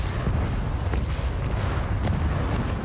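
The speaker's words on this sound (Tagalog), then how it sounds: "Sunod-sunod ang pagsabog" Bombs dropped by a jet explode one after another in a movie battle scene, a dense, continuous roar of booming blasts filling the whole stretch with no pauses.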